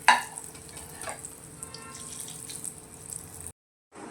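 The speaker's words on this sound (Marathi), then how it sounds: "याच पद्धतीने मी आता राहिलेल्या पण तळून घेते" Colocasia leaf rolls, alu vadi, frying in hot oil make a soft continuous sizzle with a brief clatter at the start, running about three and a half seconds before cutting to near silence.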